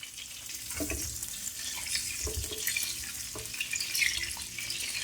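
Potatoes for Kashmiri dum aloo shallow frying in a pan, a continuous quiet sizzle with occasional knocks and clinks of stirring, close and without talk.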